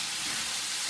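Velveted chicken stir-frying in a hot pan with fresh summer vegetables, a steady soft sizzle and hiss heard alone for a brief moment.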